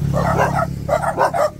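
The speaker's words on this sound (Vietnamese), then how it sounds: "Là mấy con chó rồi." Dogs bark close by in a string of short, loud yaps in two quick bursts, over a steady low electrical hum.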